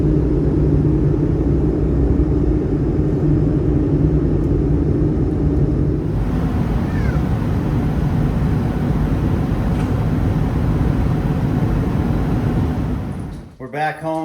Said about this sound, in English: that last little clip I just wanted to share a few seconds of is on the airplane